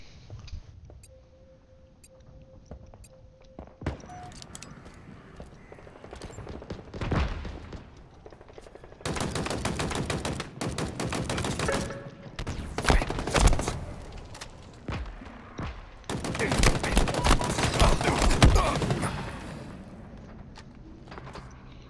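Gunfire in Halo Infinite, with bursts of shots and impacts scattered across a busy match, quiet stretches broken by louder clusters of firing, mostly close and without talk.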